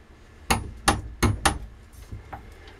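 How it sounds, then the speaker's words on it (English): Pointed rammer pressing powder in an arbor press for a spolette: four sharp, close metallic knocks in quick succession, followed by two fainter taps. "Now I use the pointed end rammer and press that 1/4 inch deep, 1/8 inch diameter hollow into it."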